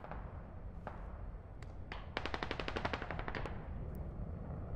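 Automatic gunfire in the Squad military video game: a few isolated shots, then a rapid burst of about a dozen rounds over a low rumbling battlefield background.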